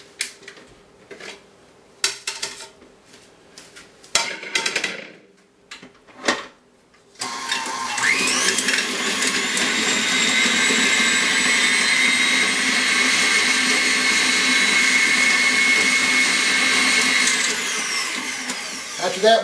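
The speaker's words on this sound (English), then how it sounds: "First we're going to take our butter and our shortening and we're going to cream them together" Electric mixer creaming butter and shortening together for a pound cake, switching on after several seconds of clattering bowl handling and then whirring loudly and steadily to the end.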